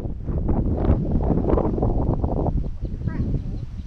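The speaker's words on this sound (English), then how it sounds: "That's not me. That's the wind, dude." Gusty wind buffets the microphone on an airfield flightline beside a P-38, a loud, continuous rumbling roar, while people talk over it.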